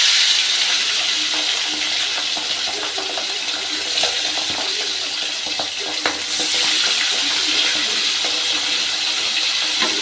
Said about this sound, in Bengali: প্রথমেই আমি ট্যাংরা মাছগুলো ভেজে নেব।